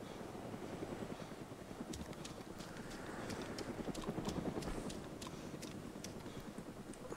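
A helicopter's rotor chop in the game DayZ: Origins thrums steadily in the background, faint and continuous with a rhythmic beating texture.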